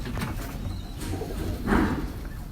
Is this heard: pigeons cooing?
yes